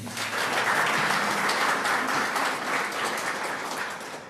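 Sustained audience applause at a church choir concert honoring the bell choir, a dense, even wash of many hands clapping that holds steady and begins to thin slightly toward the end.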